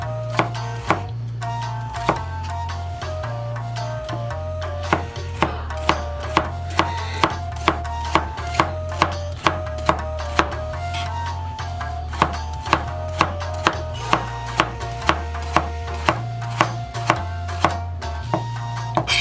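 Bitter melon (goya) being chopped with a Chinese cleaver on a board for Okinawan goya champuru, a brisk regular series of sharp knocks over steady background music.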